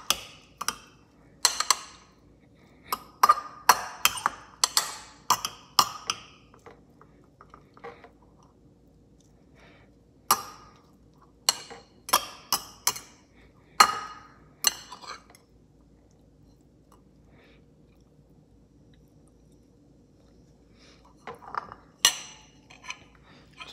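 Utensil clinking and scraping in a bowl while a child's breakfast food is mixed, coming as irregular bursts of quick clinks separated by pauses, fairly close and moderate in level, with no talking.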